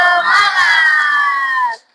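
A classroom of students chanting a rhythmic spirit clap together in a math lesson, a loud, steady unison of voices lasting about two seconds before cutting off.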